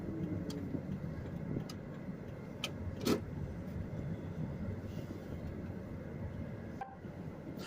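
A car pulls in and slows in an active tsunami zone after a 6.9 earthquake in Japan, heard from inside as a steady low engine and road rumble with a few faint clicks and one small thump.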